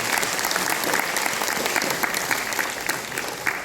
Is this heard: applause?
yes